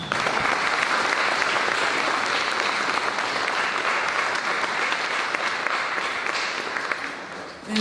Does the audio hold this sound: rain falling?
no